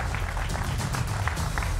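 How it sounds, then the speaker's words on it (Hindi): Studio audience clapping to welcome guests on a Hindi TV news debate, a brief, steady patter of applause at moderate loudness over a low room hum. "तो जोरदार तालियों से सब मेहमानों का स्वागत करिए।"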